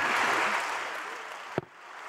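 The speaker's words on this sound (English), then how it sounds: "Please, ladies and gentlemen, a big round of applause for our panel." Audience applause after a business-and-society panel discussion at a Paris conference, a dense broadband clapping wash that fades down, broken by a brief thump near the end.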